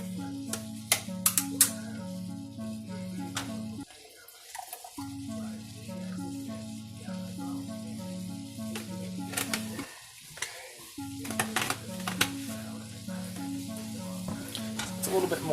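Pasta sauce with mushrooms sizzles steadily in a pan for a baked rice dish while a spoon stirs and scrapes through it, with brief quiet gaps and sharp clinks of utensil against the pan; a voice speaks at moments.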